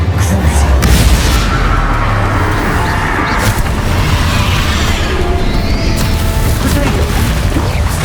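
Confringo, Incendio and Bombarda spell blasts in the Hogwarts Legacy game erupt as a continuous, loud barrage of booming crashes and crackling impacts, with a voice shouting incantations over the dense combat noise.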